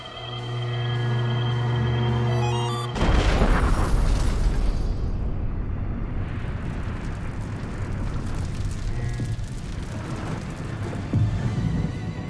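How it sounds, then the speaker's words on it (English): A loud explosion from a low-budget sci-fi film: a sharp broadband blast after a sustained electronic tone, followed by a long rumbling, crackling roar of debris and fire that fades unevenly. "I doubt anyone could have survived that explosion."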